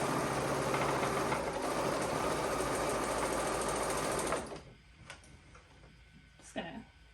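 A sewing machine stitches smocked pants in a loud, fast, continuous whir for about four seconds, then stops, leaving faint handling clicks and rustles of the fabric.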